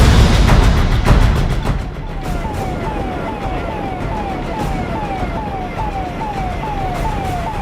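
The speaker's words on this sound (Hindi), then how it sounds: "सायरन बजाती सड़कों पर दौड़ती यह है कोविड टेस्ट मोबाइल वैन" A COVID test mobile van drives along village roads in Bihar, India, its siren wailing loudly and repeatedly in rising-falling sweeps over road and engine noise.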